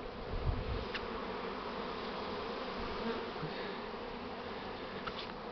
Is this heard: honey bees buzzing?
yes